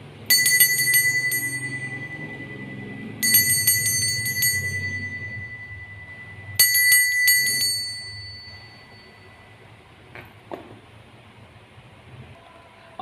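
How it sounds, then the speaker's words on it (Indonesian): A small bell rings three times in quick bright bursts, each ring trailing off before the next, with faint background noise and a few clicks. "kita akan melanjutkan dengan ditandai lonceng berbunyi"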